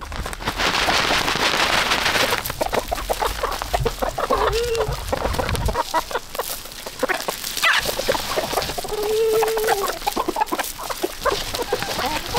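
A flock of chickens clucks and calls nearby while eating black soldier fly larvae, with overlapping clucks, a few drawn-out calls and busy scratching and pecking noise throughout.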